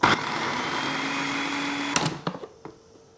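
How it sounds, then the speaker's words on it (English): A food processor whirs steadily as it cuts cold butter into flour, a loud continuous motor drone that stops near the end, followed by a few short clunks. "Now, because I'm using the food processor, it's really important that the butter is cold. And process that until it's crumbly."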